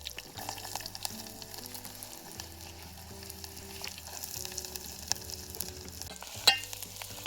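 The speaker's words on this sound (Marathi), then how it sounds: "आता तेल टाकून घेते. आता कढीपत्ता टाकून घेते. आता कांदा टाकून घेते." Onions frying in oil with curry leaves in a cooking pot give a low, steady sizzle and crackle close by, with faint stirring scrapes and one sharper knock near the end, with no talk.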